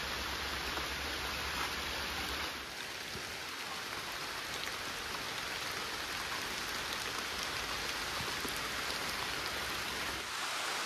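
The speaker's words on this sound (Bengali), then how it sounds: "বৃষ্টি শুরু তো হলো থামার নাম নাই কোনো" Steady, dense rain pours over a forest, a continuous even hiss that holds at the same close, full level for the whole stretch with no voices.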